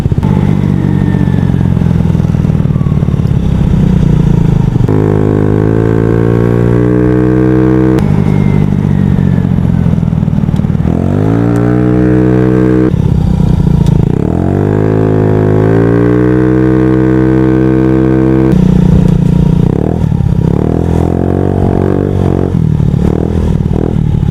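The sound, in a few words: Honda Ruckus scooter riding on a commute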